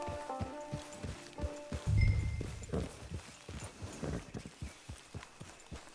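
Horse hooves clip-clop steadily on the ground in an online western video game, a regular walking rhythm of distinct close hoofbeats with a brief low rumble partway through.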